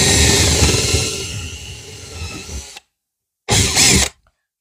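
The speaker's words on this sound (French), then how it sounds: "là je le fais dans le bois avec un foret" A power drill bores into wood while an electric radiator is being mounted on a wall. It whirs loudly and steadily for almost three seconds, stops, then gives a second short burst.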